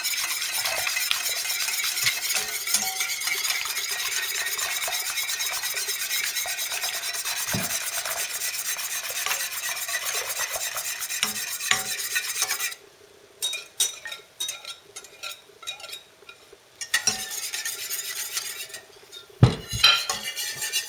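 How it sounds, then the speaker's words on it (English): Cream is whisked in a pan with a steady, rapid metallic scraping and rubbing of the whisk against the pan, close and continuous. Later the whisking turns stop-start, with short bursts, pauses and an occasional clank. No one speaks. "Keep whisking until the cream thickens"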